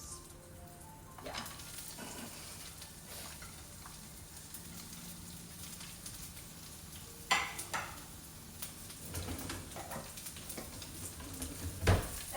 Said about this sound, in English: Now the oil, it's heated, so the first thing I'll add, it's the onions